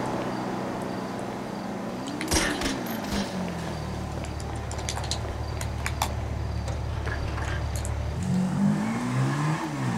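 Engine of a motorbike in the video game GTA San Andreas, a steady close drone with pitch rising, dropping back and climbing again, mixed with other game vehicle noise.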